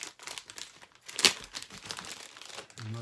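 Packaging crinkling and crumpling as a tightly packed shipment of golden age comic books is opened, a continuous close rustle with one sharp louder crackle in the middle and a low thump near the end.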